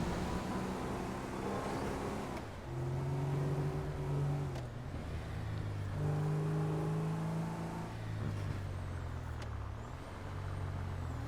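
Several cars drive past on a road in GTA Online, engines droning and shifting in pitch as they pass one after another, fairly close, steady over the whole stretch with no talk.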